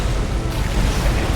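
A heavy rumbling crash of a ceiling caving in, deep and loud, booms through an underground area of Skyrim Special Edition, with a faint voice beneath the noise.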